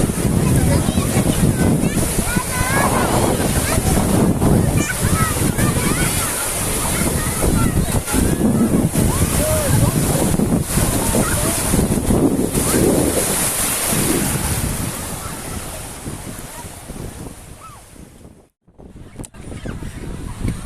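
Surf breaks on the rocky beach of Pedra do Xaréu under strong, buffeting wind, a loud continuous roar with someone talking over it, the noise fading briefly near the end.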